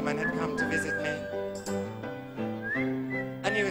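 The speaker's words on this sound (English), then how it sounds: "A whistling gentleman had come to visit me." A man whistles a lilting melodic tune, fairly close and steady for the whole stretch, with a few sharper accents along the way.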